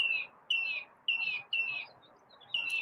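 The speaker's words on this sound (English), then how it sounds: "Tammy, you hear Chirpy in the background?" Small pet bird chirping in short bright bursts, about five repeated calls in under three seconds, moderately faint and indoors with no talk over it.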